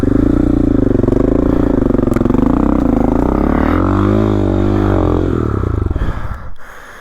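A motorcycle engine runs loudly up close on a mountain trail just thawed after winter, its pitch rising and falling with revs before it cuts out near the end.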